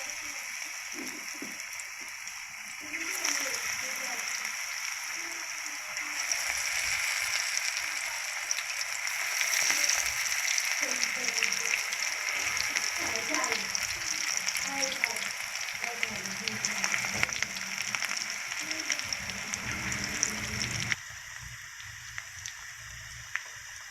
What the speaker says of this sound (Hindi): घी मेरा फुल गर्म हो चुका है। अब हम इसमें पकौड़े डालेंगे 1-1 चम्मच।